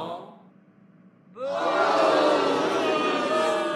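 A classroom of students booing together, a quiet room giving way after a pause to a sudden loud group vocal groan that holds steady to the end.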